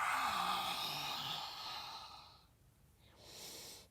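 A long, breathy exhale during a yoga session lasts about two seconds, fairly close and clear, then fades to quiet. A softer breath follows near the end, with no talking.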